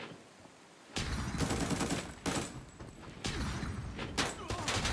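Gunfire cracks out in the video game Arena Breakout: several loud bursts of rapid automatic fire separated by short gaps.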